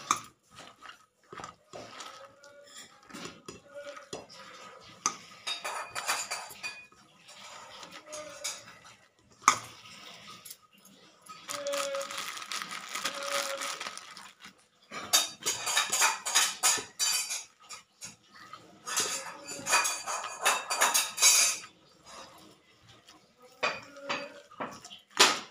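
Gram flour batter being mixed by hand in a metal bowl, with repeated scraping and clinking of utensil against the bowl in bursts, close and fairly loud, with brief pauses between.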